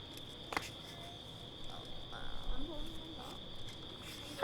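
Crickets give a steady, faint, high chirring trill that runs throughout, along with some faint background voices and a brief click.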